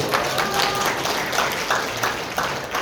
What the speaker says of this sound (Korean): 동의하시면 박수 한번 크게 보내주시죠